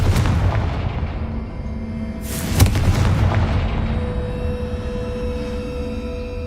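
Confringo explosive spell in Hogwarts Legacy gameplay, a sharp booming blast midway over a steady rumbling game background, fading into a lingering drone.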